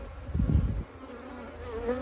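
A strong honey bee colony buzzing inside its hive, a dense, steady hum close by, louder in the first second and then settling into a continuous drone.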